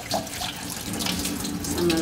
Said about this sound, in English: we're just letting the water stream through the intestine until it runs clear